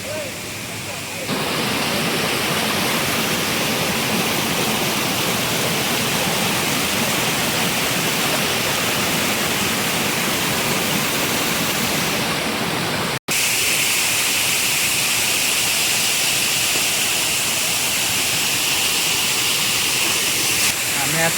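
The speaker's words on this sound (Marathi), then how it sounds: "बोकड धबधबा याला सांगतात बोकड धबधबा" Bokad waterfall at Vajreshwari roars steadily as a broad, continuous rush of falling water, loud and unbroken throughout with only a brief cut partway.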